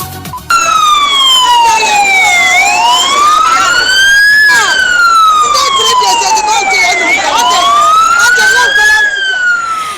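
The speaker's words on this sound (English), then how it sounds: "that was the siren of an ambulance conveying a collapsed student to hospital." An ambulance siren wails, sweeping up and down in long, steady cycles, loud and close, with traffic noise faintly underneath.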